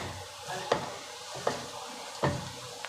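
Chopped cabbage for cabbage palya fries in a pan with a soft, steady sizzle, broken by three sharp clacks of a utensil against the pan spaced about a second apart.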